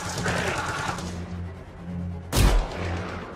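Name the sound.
gunfire in a video game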